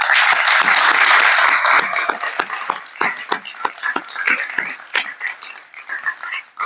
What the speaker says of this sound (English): I think we can give a great applause.